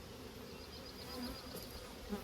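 Honey bees buzzing in a sparsely populated hive during maintenance, a faint, steady low drone close by with no speech.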